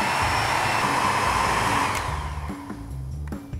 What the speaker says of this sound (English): We're going to use this Steinel heat blower to shrink our heat shrink.